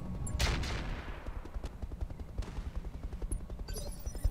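Weapon shots in a video game battle, a sharp opening blast followed by a rapid stream of faint, crackling gunfire bursts that continue throughout.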